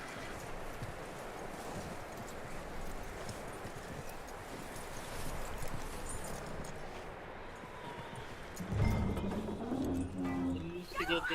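Horse hooves clip-clopping in Red Dead Redemption 2 under an outdoor bed of birdsong and ambient noise, ending in a louder burst of sound near the end.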